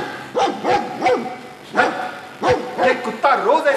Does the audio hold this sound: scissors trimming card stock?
no